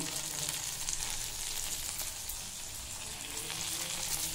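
Onion and tomato, seasoned with salt, fry in a pan for Moglai paratha, producing a close, steady, dense sizzle that holds evenly throughout with no talking.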